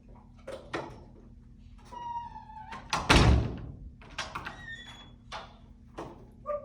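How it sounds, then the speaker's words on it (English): A house door is opened during a dog training session in a doorway: a loud thunk of the latch and handle in the middle, surrounded by clicks, light knocks and scattered high chirps, with no talking. "And then I'm going to open the door"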